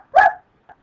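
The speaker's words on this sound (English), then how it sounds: "That's my dog. She's saying hi." A dog barks once indoors, loud and close, followed by a brief, fainter yelp.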